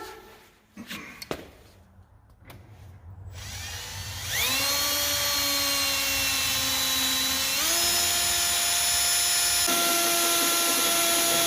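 After some handling and clunks, a cordless power drill whirs steadily and loud, its pitch dipping as it bores bolt holes for stainless half fenders on a Peterbilt 379 truck, running continuously for several seconds.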